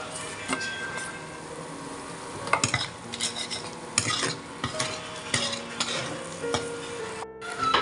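Ginger paste fried and stirred in a pan of spiced oil with chili powder for an egg and potato curry, a spatula scraping and clinking in quick irregular strokes over a steady low sizzle.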